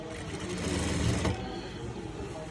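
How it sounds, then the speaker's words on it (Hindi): A sewing machine stitches a waistcoat, giving a steady, close mechanical whir that runs without a break for the whole stretch. "ये इसकी मशीन पे लास्ट सिलाई है"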